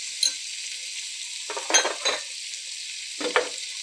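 Spices and turmeric frying in a pan for Andhra pappu charu, heard as a faint background hiss broken by a few short bursts of stirring and clinking of a spoon against the pan.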